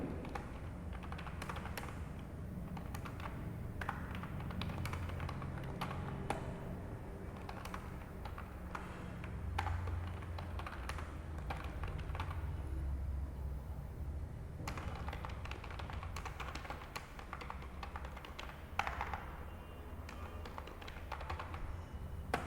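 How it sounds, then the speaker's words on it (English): Quiet, close keyboard typing: a continuous patter of light key taps in irregular bursts, with occasional short pauses. "Now I am typing."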